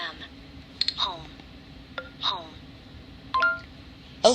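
Notification chimes from a Kindle Fire tablet sound as several short, bright electronic pings and clicks, scattered over a low steady hum.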